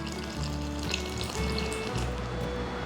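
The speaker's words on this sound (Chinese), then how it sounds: "把茄子放入盆中，放入适量的盐巴，倒入过滤水，防止茄子氧化。" Filtered water pours steadily into a bowl of eggplant pieces sprinkled with salt, a continuous close splashing stream with no voices.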